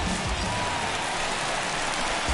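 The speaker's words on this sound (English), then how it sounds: "I don't know how much more rain this field can take" Heavy rain pours onto a baseball field during a game, a dense, steady wash of hiss that holds evenly throughout with no breaks.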